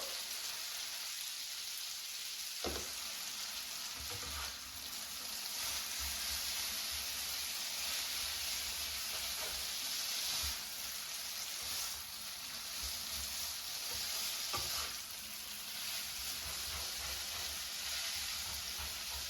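Whole wheat spaghetti is stirred with garlic in sizzling olive oil, giving a steady loud frying hiss throughout with occasional scraping clicks from the stirring utensil.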